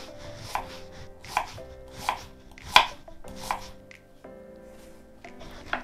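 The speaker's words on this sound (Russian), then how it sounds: "Дальше лучок. Тоже стараемся резать очень тоненько." Knife thinly slicing onion on a cutting board for a fried eggplant salad, a series of about eight crisp, evenly spaced chopping taps close up, each cut ringing briefly over quiet background tones.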